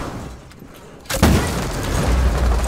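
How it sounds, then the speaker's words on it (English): A breaching charge blows open a wall in the Rainbow Six Siege video game: a sudden loud boom after a second of quieter ambience, followed by a sustained rumble of falling debris. "Guys, I'm gonna breach this wall."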